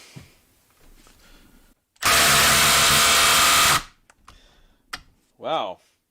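Cordless impact driver, DeWalt or Milwaukee, running in one loud sustained burst of about two seconds with a hard start and stop, followed by quieter clicks and a brief voiced sound afterward.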